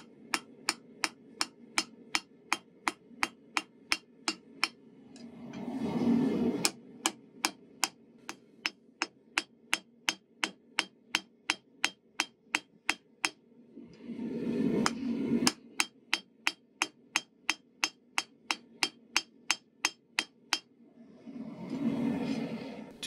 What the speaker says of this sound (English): I position the tip of my blade over the edge of my anvil and hammer in a little hook that catches on the edge of the anvil